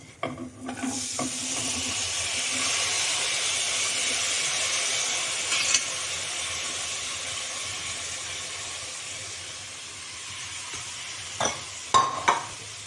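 A steady, loud sizzle as red pumpkin is added to a hot oil tempering with chilli runs throughout, with a few brief clinks of a utensil near the end.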